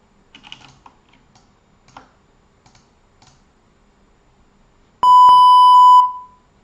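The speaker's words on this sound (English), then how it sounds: "Now my alerts are starting to come in." Trading platform alert sounding as one loud, sustained electronic beep tone lasting about a second, following several soft keyboard typing clicks.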